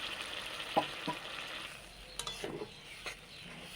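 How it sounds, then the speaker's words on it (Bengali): Cooked spice paste for a fish curry sizzles softly in a pan as a small amount of water is added, a faint, steady hiss broken by a few utensil clicks and light scraping stirs. "তোমার মশলা কষানো হয়ে গেছে, এবার আমি অল্প পরিমাণে একটু জল দিয়ে দেবো"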